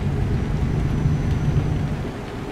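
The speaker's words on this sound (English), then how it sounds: "Nothing like a Europe game unless it's raining." Steady rain and low thunder rumble in a Euro truck driving video game, a continuous dense wash of rainfall with a deep rolling undertone, loud and even throughout with no talking.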